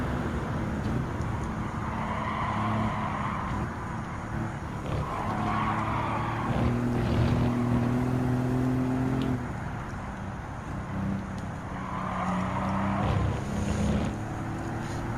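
An Aston Martin DB5 '64 laps Goodwood in Gran Turismo 7, its engine drone steady throughout with gear-shift surges and a rising whine midway, no voices over it.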